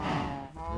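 A single cow moos in the blocky sandbox game Minecraft, a close, drawn-out low bovine call filling the short moment on its own.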